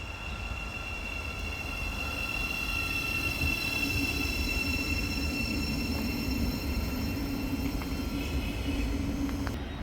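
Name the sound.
LNER class 801 train passing through Hatfield station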